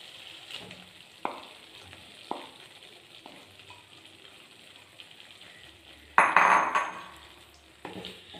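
Smashed vegetables for pav bhaji are mixed in a pan: a quiet sizzle under sharp spatula knocks against the pan, then a louder burst of frying near the end, with no voices.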